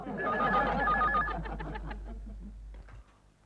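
A telephone bell rings in repeated bursts at a household, loud over a low steady hum, with faint voices in the background before it stops.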